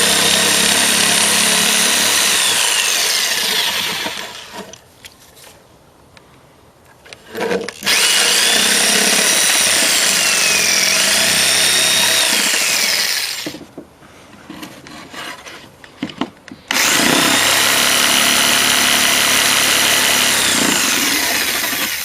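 A power saw cuts through a wooden stair stringer in three long, loud, rasping passes, with short quieter pauses between cuts, close up.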